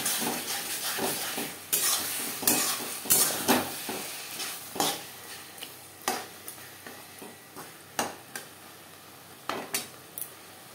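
Kochu shak (taro leaves) cooked in a pan over high to medium flame, stirred with a series of sharp scraping strokes and clinks about once a second over a faint sizzle, close and alone.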